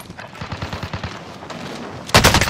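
Gunfire in the battle royale game Warzone: a rapid rhythmic string of automatic shots at mid distance, then a louder, closer burst of fire near the end.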